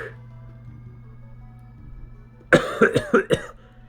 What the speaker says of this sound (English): I don't know why I have such a bad cough